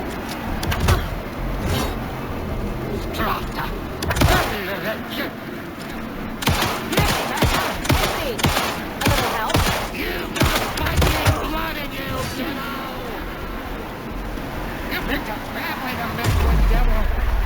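Gunshots ring out in the video game Alan Wake 2, a string of sharp loud bangs spaced irregularly across the scene, mixed with character voices talking between them.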